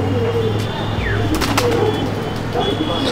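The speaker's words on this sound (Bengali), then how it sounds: "এই হচ্ছে পায়রাটা" An old-breed Chapka Giribaz pigeon in a home loft gives soft, low cooing, with a few faint chirps and a brief flutter over steady background noise.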